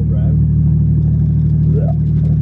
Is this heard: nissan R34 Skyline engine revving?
yes